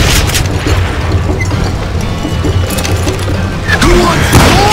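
Gunfire from a Western shooter video game, Call of Juarez: Gunslinger, sounding as loud booming shots amid a dense, continuous game soundscape.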